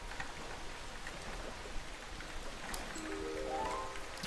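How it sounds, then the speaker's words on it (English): Steady rain falling in the farming game Harvest Island, a dense, even hiss of drops on surfaces, with a faint rising chime near the end and no talking. "And now we have rain"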